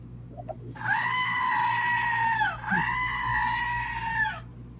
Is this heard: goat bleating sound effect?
yes